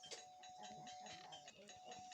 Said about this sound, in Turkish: O gelene kadar zil çalacağım.